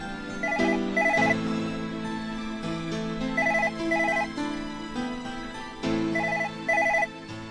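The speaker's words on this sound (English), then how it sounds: "Can't you hear the phone ringing?" A telephone rings in repeated bursts of a bright electronic tone, loud and close, in a regular pattern with short pauses and no speech.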